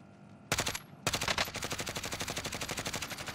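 Gunfire in Call of Duty: Warzone, a short burst followed by a long, fast, evenly spaced automatic volley, loud and continuous with no talk over it.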